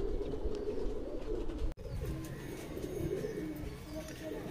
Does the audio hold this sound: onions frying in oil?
no